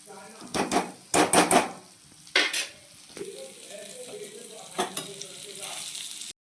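Mushi fish fry in a pan crackles with bursts of loud sizzling and spatula scraping against the pan, then settles into a quieter steady fry before stopping.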